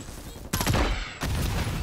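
Gunfire in the video game Call of Duty MW3: dense, loud bursts of rapid shots fill the short clip, with a brief drop between two volleys.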